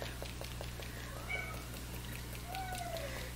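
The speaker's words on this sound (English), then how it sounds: "one of my kitties is in the background wanting to be petted, I think" A pet cat meows in the background, a faint drawn-out call partway through and another rising-falling meow near the end, over a steady low hum in a quiet indoor room.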